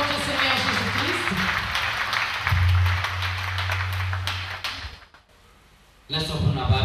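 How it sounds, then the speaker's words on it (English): A church congregation claps and cheers in praise, loud sustained applause for several seconds, dropping briefly to near silence before the noise swells again. "Clap for Lord Jesus Christ."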